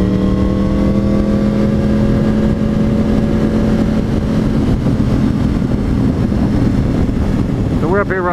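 A motorcycle engine drones steadily and loudly, with a sustained tonal whine through most of the stretch and wind buffeting the microphone, ending in a quick rising rev near the end.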